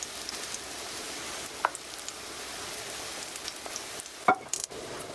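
Egg white pancakes fry in a pan with a soft, steady sizzle and hiss, broken by a couple of faint clicks toward the end.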